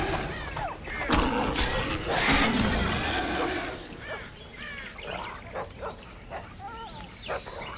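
A dog in the video game The Witcher 2: Assassins of Kings barks and yelps in short repeated bursts amid combat clatter and monster snarls, fairly loud at first and then in scattered sharper yelps.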